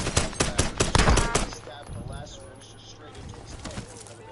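Rapid bursts of Call of Duty Warzone gunfire crackle loudly through the first second and a half, then fade to a quieter game backdrop with scattered distant shots.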